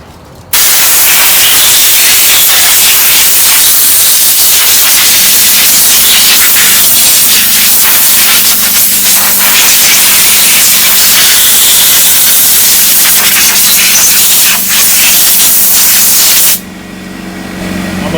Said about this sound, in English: I'm gonna take it over to my compressor and I'm gonna hit it with air and blow all of it off.